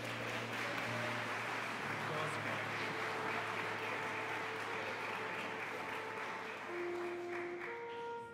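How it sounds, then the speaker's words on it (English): School concert audience applauding a girls' choir at a pop and jazz event, a steady wash of clapping heard from some distance, with voices and a sustained tone under it. "Give a round of applause."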